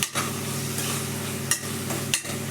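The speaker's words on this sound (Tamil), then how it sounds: "2-3 தக்காளி போட்டு எண்ணெயில் கொஞ்சம் நல்லா வதக்கி வைக்கணும்." Tomatoes sautéing in sesame oil for a mutton pepper soup, a steady close sizzle broken by a few sharp clacks of a spoon stirring against the pan.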